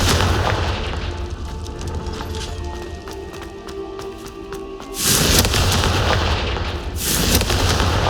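Confringo spell explosions boom in the Hogwarts Legacy video game, with two loud blasts near the middle and near the end, set against continuous battle noise and rapid rhythmic pulses.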